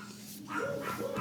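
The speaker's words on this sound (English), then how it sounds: "Sorry about the dogs." Dogs barking indoors in the background, a couple of short yapping barks following a quieter moment, moderately loud with no speech over them.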